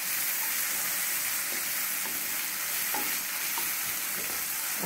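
Asafoetida is roasted in hot oil in a pan for Sindhi dal pakwan, a constant close hissing sizzle broken by soft spoon-stirring scrapes every second or so, with no talk.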